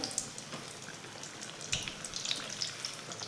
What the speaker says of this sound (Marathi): असं छान उलटपलट करून छान दोन्ही बाजूने खरपूस तळून घ्यायचं